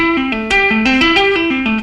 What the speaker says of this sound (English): the pattern we're going to do will sound like this